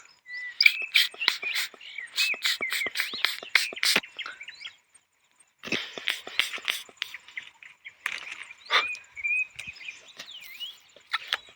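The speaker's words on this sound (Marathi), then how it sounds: "पावसाळी पक्षी ओरडताना दिसतात." Bursts of bright chirping and whistled bird calls from monsoon birds in a village, several birds trading phrases in quick runs with short pauses, insects faintly buzzing beneath.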